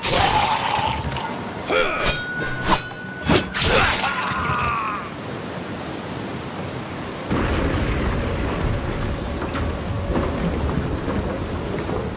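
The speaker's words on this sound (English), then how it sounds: "standing in this downpour" Heavy downpour with rolling thunder in the samurai video game Trek to Yomi, steady rain hiss throughout with loud thunder cracks and rumbles in the first half, then the rain swells again near the end.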